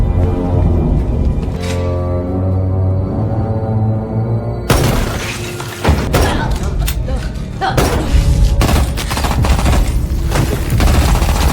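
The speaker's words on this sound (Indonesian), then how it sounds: "si bos memberondong area sekitar dengan senjata beratnya" Heavy weapon gunfire spraying an area in a film action scene: after a stretch of low tonal score, dense bursts of loud rapid shots and booming impacts erupt, mixed with music and voices.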